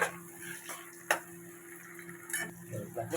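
Bell peppers sauté in a home kitchen pan, with a soft sizzle under sharp intermittent clinks and scrapes of a spoon stirring against the pan.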